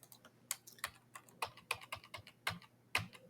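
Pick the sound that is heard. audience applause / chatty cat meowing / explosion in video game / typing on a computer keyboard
typing on a computer keyboard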